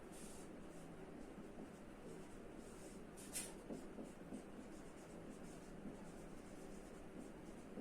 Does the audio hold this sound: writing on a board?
yes